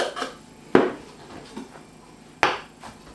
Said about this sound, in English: I'm going to chop some capers as well